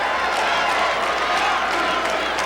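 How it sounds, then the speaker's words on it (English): Home crowd at a 1989 basketball game cheering and applauding after a tying basket, a dense, sustained roar of voices and clapping, loud and steady throughout. "To say the Martin crowd is going nuts is an understatement."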